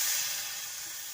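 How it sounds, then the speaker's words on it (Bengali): Spiced water hits a pan of frying puti fish curry, bursting into a loud, close hiss and sizzle that starts strong and gradually eases. "এরপর এর মধ্যে দিয়ে দিলাম মশলার সাথে মেশানো জলটা।"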